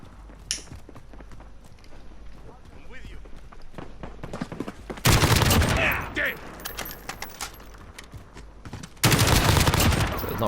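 Automatic gunfire in a Modern Warfare multiplayer match comes in two loud, dense sustained bursts after quieter footsteps and movement, close and harsh.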